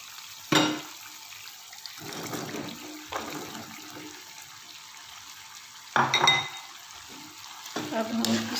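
Chopped capsicum being stirred into chicken frying in a pan, with a few scraping stir strokes over a low sizzle between quieter pauses.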